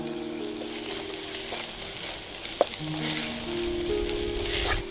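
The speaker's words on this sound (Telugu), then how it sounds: "ఆనియన్స్ వేగినాయి కదండి, ఇప్పుడు పచ్చిమిర్చి వేసుకుందాం" Green chillies frying with onions in a pan, a soft steady sizzle with a brief clatter of stirring partway through, alone with no talk.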